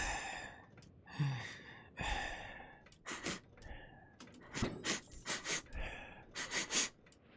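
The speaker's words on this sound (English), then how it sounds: "Who thought the breathing and sniffing was gonna be good?" Breathing and sniffing effect from the strategy game Europa Universalis V: a close series of soft sighs, gasps and short sniffs, some single and some in quick clusters, heard alone.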